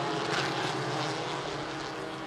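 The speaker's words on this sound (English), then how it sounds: "we've already got a jet dryer" A jet dryer works a road racing circuit during a cleanup of spilled fluid, giving a steady, loud, broadband jet roar that holds constant throughout without breaks.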